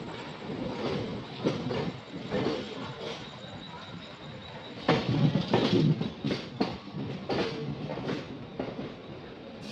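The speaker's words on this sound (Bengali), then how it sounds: "আমাদের মালগাড়ি এবার প্রবেশ করছে কল্যাণ স্টেশনে।" An empty goods train rolls into Kalyan station in Maharashtra, its wagons clattering and thumping in uneven bursts with faint wheel squeal, close and fairly loud.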